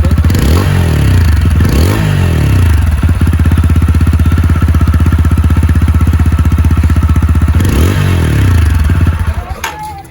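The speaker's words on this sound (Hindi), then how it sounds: "इस तरफ मैं बाइक स्टार्ट करके दिखाता हूँ आपको" A TVS Apache RTR 160 4V motorcycle engine cranks a couple of times, catches and settles into a loud, steady idle with a rapid, even putter, then cuts off near the end.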